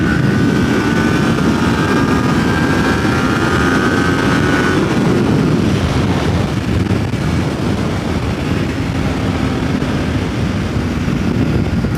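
A Kawasaki Ninja 400 motorcycle engine holds steady at 8000 RPM in fourth gear, a loud, continuous droning hum mixed with heavy wind rush while riding.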